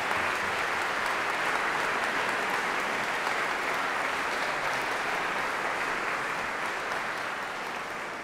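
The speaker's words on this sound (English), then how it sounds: "give a warm thanks and a round of applause to Conal Coad, Michael Halliwell, Emma Matthews, Benjamin Schwartz, and the national adjudicator" An audience at the Australian Singing Competition finals concert applauds steadily, a dense, even wash of clapping that holds for the whole stretch and tapers slightly at the end.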